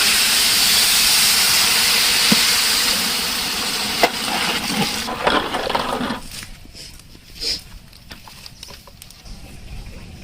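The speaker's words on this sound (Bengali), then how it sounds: "আমরা গরম পানি দিয়ে দিলাম।" Hot water poured into a pot of crisply fried rice being cooked for khichuri, a loud steaming hiss that fades after a few seconds into quieter bubbling and scattered clinks.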